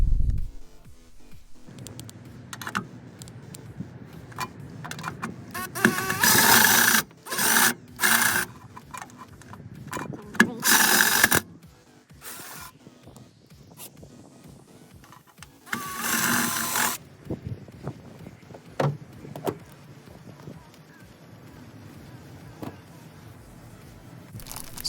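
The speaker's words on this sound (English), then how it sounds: "So after drilling all three holes, you can put your bracket on now." A power drill bores holes for a bed extender bracket on a 2012–2021 Toyota Tacoma, whirring in several loud, close bursts of a second or two separated by quieter pauses.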